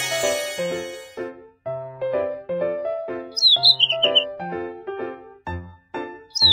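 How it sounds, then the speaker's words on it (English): Bird chirps in a classroom listening game, short bright tweets appearing in bursts over a steady melodic tune, fairly clear against the music. "Bird!"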